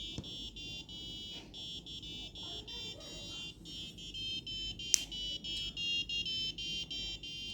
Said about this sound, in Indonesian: buzzernya juga menyala yang mengindikasikan kalau wiring ini sudah benar